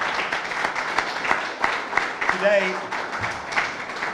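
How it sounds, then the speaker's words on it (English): Staff at a county event for The Warehouse get a round of applause: steady clapping from a gathered crowd throughout, with voices and crowd murmur mixed in. "Can we give them all a big, big round of applause?"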